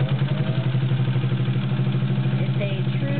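A vintage Singer 201-2 sewing machine stitches through 16 layers of thick fabric with an 18 needle, a steady, loud, low mechanical hum and rapid clatter that runs evenly throughout, close up.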